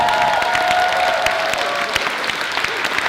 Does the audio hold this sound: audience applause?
yes